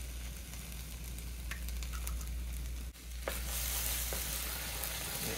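Eggs fry and sizzle loudly in a very hot pan, a steady crackling hiss broken by the scrape and clink of a utensil stirring them, close up with no talking.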